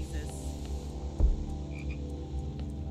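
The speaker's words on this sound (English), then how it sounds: "Now there's a frog on the fridge." A frog croaks steadily in the video game House, a low pulsing rattle that fills the scene alone with no talk.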